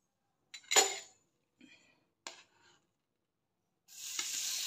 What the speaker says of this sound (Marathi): पॅन गरम झालेला आहे. त्यामध्ये बटर घालते.